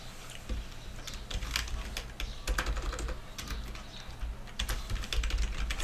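Rapid, irregular clicking of computer keys as a quiz question is typed, close and fairly quiet, with bursts of keystrokes and brief pauses between words.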